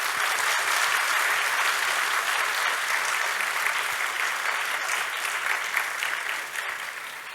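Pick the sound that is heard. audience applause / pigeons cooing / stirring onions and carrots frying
audience applause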